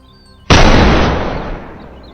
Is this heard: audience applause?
no